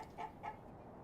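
Two short clucks from video game chickens come close together, fairly faint, followed by a quiet tail with no talk.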